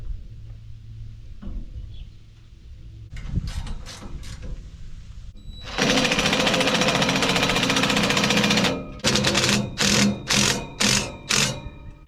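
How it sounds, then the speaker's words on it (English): A welded part being bolted onto a hammermill with a power tool, heard as a long loud buzzing rattle of an impact driver followed by four short, punchy bursts, close up with no talk. "let's go bolt it on there and see what it looks like"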